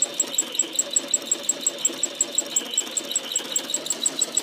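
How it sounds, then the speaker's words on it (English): Domestic sewing machine stitching slowly while thread painting a blossom, an even, rapid mechanical ticking with clear regular needle strokes, close and alone, no talking. "It's a better idea to start stitching slow when you're going in smaller spaces"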